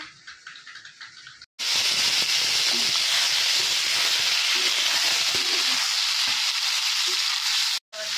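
Oil poured into a hot pan for tomato chutney sizzles loudly and steadily in a continuous close hiss lasting several seconds, preceded by quieter kitchen sounds.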